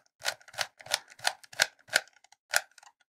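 A Shengshou Sujie 3x3 Rubik's cube is turned quickly, giving about eight crisp plastic clicks in an uneven, fast rhythm, close and quiet with no talking.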